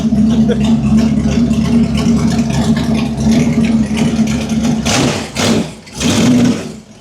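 A V8 motorbike powered by a 350 Chevy engine idles loud and close with a steady deep rumble, then is blipped twice in quick revving surges near the end.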